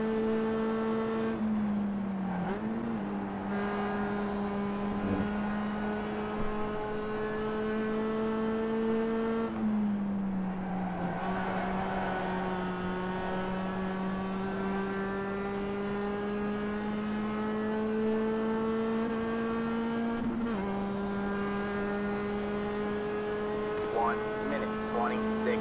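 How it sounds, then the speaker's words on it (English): Race car engines drone steadily in iRacing at Watkins Glen, a sustained whine shifting pitch through gear changes, with a Ford car passing close by; the engine note dominates alone for the full stretch. "That was a ballsy move by the Ford car."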